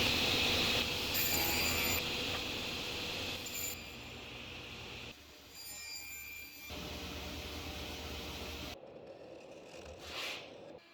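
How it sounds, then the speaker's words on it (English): A table saw whines steadily as it cuts a slot in a wooden frame for several seconds, then stops, leaving a quieter mechanical hum at the end. "Then I cut a slot in the frame on the table saw"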